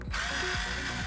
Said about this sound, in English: We do have to take the 2 screws out on the side.